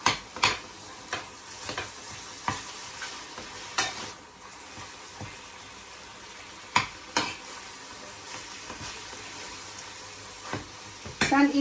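Ground meat sizzles in a hot pan, with a continuous soft frying hiss and several sharp scrapes and clicks of a utensil stirring.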